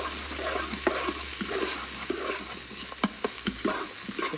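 Celery and onions sautéing in a pot, a steady sizzle underneath repeated scraping stirs and a few sharper knocks of the utensil against the pot, close and moderately loud with no voices.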